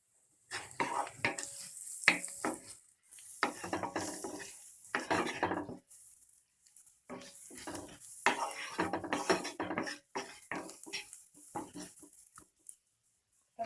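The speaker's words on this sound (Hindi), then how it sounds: "इसे थोड़ा भून लेंगे। इसमें मैं डाल दूंगी थोड़ी सी हल्दी।" Ingredients for egg Maggi fry in a pan with turmeric added, giving soft sizzling broken by bursts of spoon scraping and stirring, fairly quiet and close, with no talking.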